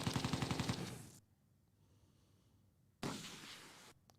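Rapid machine-gun bursts from the World War II game Close Combat 2: A Bridge Too Far, a loud rattling volley, a quiet gap, then another shorter burst.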